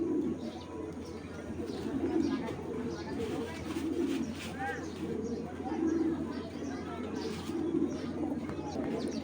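A pair of blue junky pigeons keeps up low, repeated cooing in several rolling phrases nearby, while someone talks intermittently over the birds.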